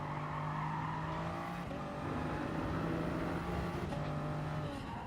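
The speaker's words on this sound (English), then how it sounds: "Hopefully that engine sound is loud enough" A race car's engine from the Gran Turismo Sport video game drones steadily and fairly loud, its pitch climbing through gears with brief shifts between, and no talking over it.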